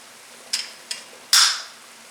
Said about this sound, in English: I like my little Mexican citrus juicing gadget